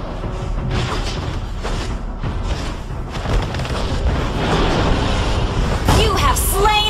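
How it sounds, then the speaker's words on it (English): Mobile Legends game audio with repeated booming explosions and thuds as a turret is destroyed, dense and loud, mixed with game announcer voice lines. "Our turret has been destroyed!"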